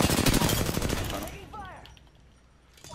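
Gunfire in the video game Apex Legends, a rapid loud burst of automatic shots in the first second, fading into quieter game sounds with a voice talking.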